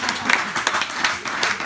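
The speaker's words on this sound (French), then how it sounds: "Moi, j'applaudis aussi, j'applaudis." A short burst of applause from a small audience at an improv theatre show, with dense, steady clapping throughout.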